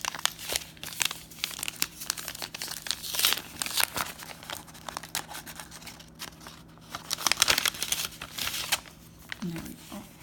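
A small paper envelope of stickers from a planner subscription kit handled up close, with soft crinkling, rustling and tearing sounds in quiet bursts.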